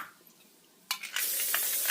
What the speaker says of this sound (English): let's spray our pan.